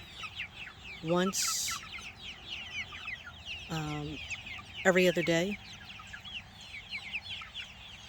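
Freedom Ranger meat chickens in mobile tractors on fresh grass cluck in short bursts near the microphone, with several louder squawking calls over a steady background of bird chatter while a person talks.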